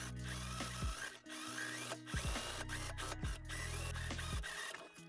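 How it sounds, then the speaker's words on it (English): A sewing machine runs in steady stretches while top-stitching a double-folded skirt hem, with short stops and restarts between bursts of motor whir, close and moderately quiet, with no voices. "now I'm going to double fold the hem and top stitch it to hem the skirt"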